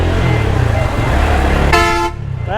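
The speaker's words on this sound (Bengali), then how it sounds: "আরে হর্ন মারলো রে" In Dhaka traffic at Mirpur 10, among buses, a vehicle horn gives one loud, sustained honk near the end, over a rumbling road din, and a voice follows right after.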